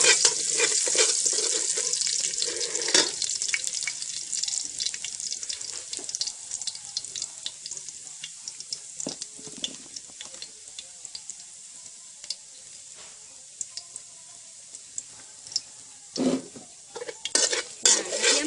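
Oil sizzles and crackles as garlic fries in a pan while a utensil stirs and scrapes, with occasional metallic clinks, close up and continuous.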